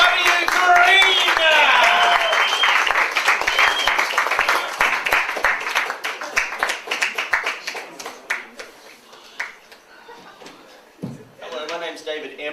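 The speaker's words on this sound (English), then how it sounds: "So please, lovely round of applause for David W. Green." Audience applause greeting a comedian at a stand-up show, loud dense clapping that thins out and fades over several seconds, ending in scattered claps and a brief voice.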